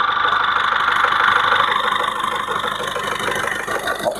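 A 2019 Maruti Ertiga ZDI+ diesel engine idles loud and close in a steady, unbroken drone with a faint ticking texture and no talking.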